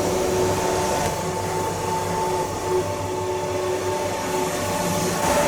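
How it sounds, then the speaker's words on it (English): A vacuum pump holding down a melamine sheet on a boat-frame building table drones steadily and loudly with a faint tonal hum. Its pitch shifts only slightly, and no one talks. "you can normally just hear the pitch of the pump change slightly"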